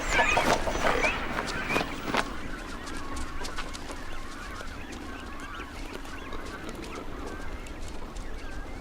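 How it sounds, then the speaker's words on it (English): Cormorants and seabird chicks calling at a crowded nesting colony with reef herons nearby, opening with loud, harsh honking cries and settling into a dense, continuous chatter of many birds. "Hungry cormorants and reef herons wait until chicks are being fed,"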